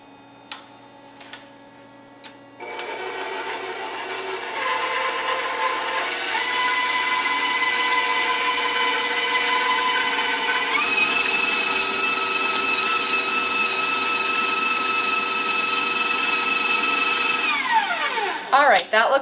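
An electric hand mixer creams butter and vanilla for a vanilla chocolate chunk cake: a few clicks, then a loud, steady motor whine that shifts pitch midway and winds down at the end, with no talking.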